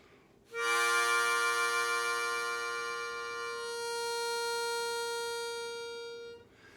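A harmonica blows holes 4 and 5 together as one long sustained chord, bright and close, that holds evenly for several seconds before cutting off.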